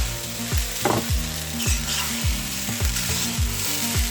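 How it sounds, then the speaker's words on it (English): Rice and sauce sizzle and fry loudly in a hot pan, tossed in a steady rhythm of repeated sweeping scrapes about every half second, with no talking. "tossing my rice to coat."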